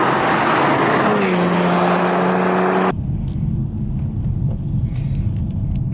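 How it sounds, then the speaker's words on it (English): A BMW 430d with a Stage 3 tune drives, its loud diesel engine rising in pitch under acceleration, then cutting to a steady low rumble of road and engine noise from inside the car. "let's get it warmed up and see what it drives like."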